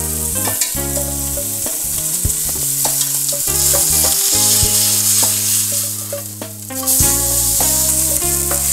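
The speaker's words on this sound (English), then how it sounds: "we're ready to start searing up that nice beef brisket" About two pounds of beef brisket sears over high heat in a pan, a loud steady sizzle and crackle with occasional stirring clinks, close and continuous with no talk.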